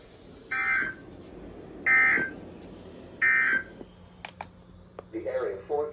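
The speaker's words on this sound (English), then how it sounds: "This has been a test of the NOAA weather radio warning alarm and EAS signal." A NOAA Weather Radio EAS test signal on an East Bay broadcast: three short, loud, evenly spaced data bursts, followed by quieter clicks and a faint broadcast voice near the end.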